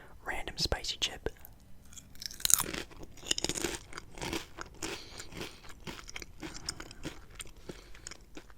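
Doritos Blaze spicy tortilla chips crunch in close bites, with sharp irregular crackles and chewing alongside soft whispering.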